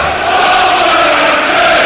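A large crowd roars steadily at a Huddersfield v Wolves football match, a loud sustained wash of many voices in a packed stadium.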